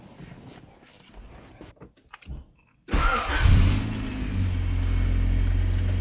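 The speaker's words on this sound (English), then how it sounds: "So the vehicle is now fired up." Late-1980s Honda Civic (EF9/ED7 generation) cranked after a few quiet clicks and rattles, then its engine catches abruptly and runs loud and close with a brief rev before settling into a steady idle.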